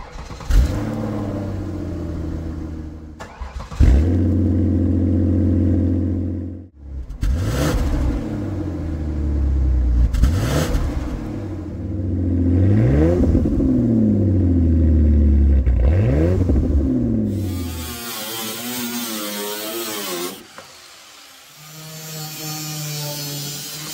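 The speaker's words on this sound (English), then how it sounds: "So I'm going to start it up, let you guys hear it before, and I'm going to cut this exhaust off," A demolition derby car engine starts and revs repeatedly, loud and close, with rising and falling revs in bursts, then shifts to a harsher, rougher tone near the end.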